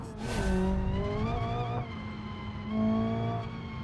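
A race car on Hirochi Raceway in BeamNG.drive revs up and down through downshifts, its engine whine rising and falling in pitch, close and continuous with no talk.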